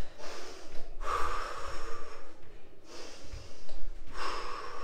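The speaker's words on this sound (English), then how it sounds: "You can see me breathing heavily" A person breathes heavily during an exercise workout, with loud, close rhythmic gasps and forceful exhales repeating about every one and a half seconds.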